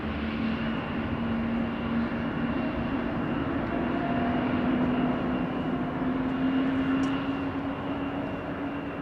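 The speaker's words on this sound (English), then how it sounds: "It's a typical sound that you hear only with airplanes that have geared turbofan engines." Airplanes with geared turbofan engines spool at Amsterdam Schiphol Airport, giving a continuous, fairly distant engine roar with a steady droning tone throughout, and no talking.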